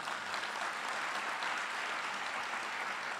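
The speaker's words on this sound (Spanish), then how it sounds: "Denle un fuerte aplauso al Señor." A church congregation applauds after a sermon, a steady dense wash of clapping from many hands that holds level throughout, fairly distant and soft, with no voices over it.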